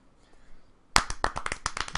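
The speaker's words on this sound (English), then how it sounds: "Little clap for Akuta, we didn't do it." After a near-silent moment, a brief burst of hand clapping starts abruptly, a handful of people clapping quickly and unevenly, fairly close.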